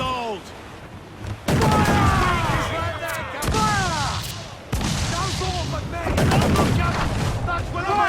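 Ship cannons in Assassin's Creed IV fire in a run of heavy, booming volleys, four big blasts spaced a second or two apart, over dense battle noise with shouted voices.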